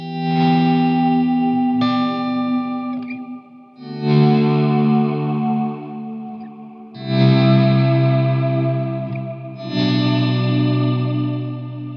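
Sustained guitar chords heavily processed through a Strymon BigSky reverb pedal in chorale mode, with shimmering reverb adding bright harmonics above the notes; four long swells, loud and alone.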